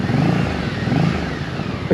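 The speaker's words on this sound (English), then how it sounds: "Does the exhaust sound nice?" An MBP C1002V motorcycle idles with a steady, throaty exhaust burble, close and fairly loud, with no voices over it.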